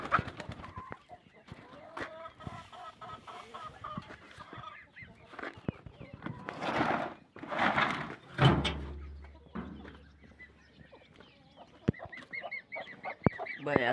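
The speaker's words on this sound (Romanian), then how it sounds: "Doar am deschis ușa să iasă gâsca cu bobocii." A farmyard goose with her goslings honking and calling near and far, mixed with chickens and other poultry clucking around, with a low rumble partway through.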